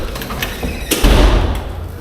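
A door swings open into an underground arcade, producing a muffled thump and rumble with a low resonant boom midway and room noise around it.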